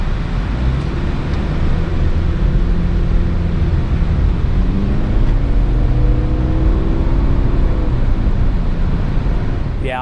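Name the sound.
Subaru compact SUV road and wind noise while driving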